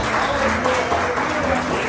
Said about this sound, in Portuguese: Começa a aplaudir a Ele, bem forte.